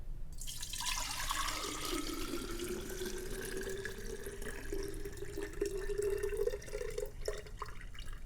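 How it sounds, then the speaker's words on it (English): Cloudy rice wash water poured from a container into a jar, a continuous close trickle whose pitch rises steadily as the jar fills, ending in a few drips, with no talking. "now I'm just gonna put my rice wash water in a jar"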